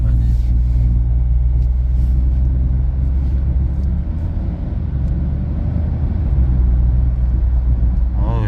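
A Hyundai Casper car climbing a steep hill, a loud continuous low engine rumble and road drone heard from inside the cabin, with people talking over it.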